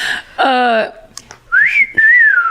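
A person whistles a rising then falling wolf whistle, loud and close, preceded by a short voiced tone that resembles a vocal imitation of the call.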